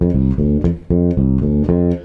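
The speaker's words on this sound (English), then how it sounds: "So this is the bass line, which is the core of the whole tune now." Electric bass guitar plays a level 5 eighth-note bass line, a steady run of punchy, plucked low notes in a driving rhythm, close and fairly loud, with no talking.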